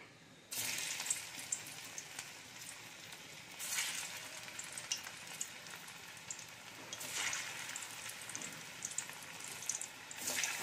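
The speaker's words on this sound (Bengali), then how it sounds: "এবারে কোপ্তাগুলো আমি একে একে ভেজে নেব।" Mocha (banana flower) koftas fry one by one in hot oil in a kadai, giving a continuous bubbling sizzle that swells louder as each kofta goes in, close and alone.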